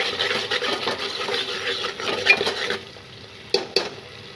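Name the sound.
stirring tomato masala with Kashmiri red chili sizzling in pan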